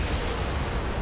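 A mini-MAC shot strikes a particle cannon in the Halo 4 campaign, a dense, booming rumble of impact and explosion filling the whole brief moment.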